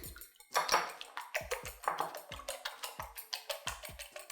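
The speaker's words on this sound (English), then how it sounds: "I will season up the egg slightly with some salt and give it a good whisk" Three eggs seasoned with a little salt being whisked in a bowl: quick rhythmic metallic clinks and taps in a steady beat, close and fairly quiet, with no voices.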